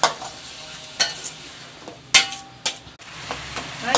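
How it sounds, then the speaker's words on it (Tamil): Mashed tomatoes being sautéed in a pan for karuvattu kulambu, dried fish curry: a spoon scrapes and stirs in irregular knocks and scuffs over a low, soft sizzle, close up with no talking. "3 தக்காளி பழம் வந்து நான் வந்து மேஷ் பண்ணியிருக்கேன். இதையும் நல்லா வதக்கிக்கலாம்."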